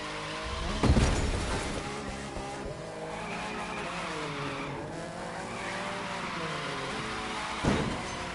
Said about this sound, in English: car is incredibly hard to drift with